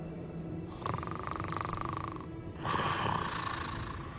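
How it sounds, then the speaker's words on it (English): A goblin snoring in Hogwarts Legacy, two long rasping snore breaths, each a drawn-out rumbling inhale with a gap between, fairly close over a low ambient hum. "Something snoring here."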